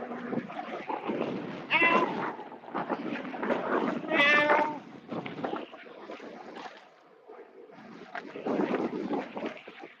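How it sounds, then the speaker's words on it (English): Cat meows on an outdoor ride, several drawn-out calls in the foreground with wind noise around them and no talking. "All right, Mike, I'll see if I can track down some cats for you today."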